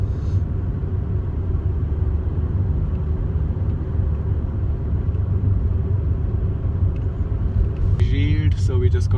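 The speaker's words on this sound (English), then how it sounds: "I'm just gonna step on the gas to maintain 40 kilometers" A car accelerates uphill on a town street in Kenora, Ontario, a steady, loud, close engine and road rumble inside the cabin throughout, with a voice talking briefly near the end.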